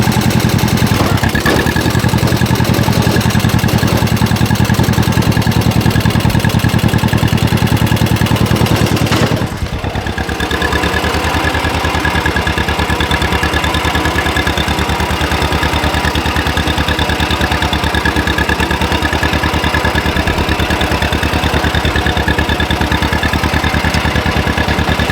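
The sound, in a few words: small tractor engine running while disking a field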